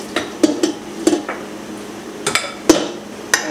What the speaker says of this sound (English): we're just going to dump this tomatoes into the turkey here